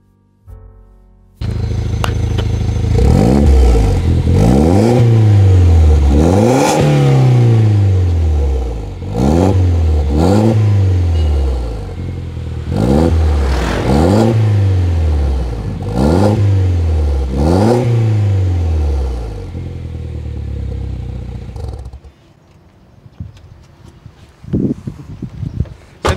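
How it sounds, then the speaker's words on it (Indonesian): A modified Mini Cooper R56 S exhaust revs hard about eight times in a rhythmic series of rising and falling bursts, loud and close, before the engine cuts and the sound drops to near quiet. "Jadi itu suara knalpotnya yang gue bilang masih enak banget dan nggak terlalu berisik"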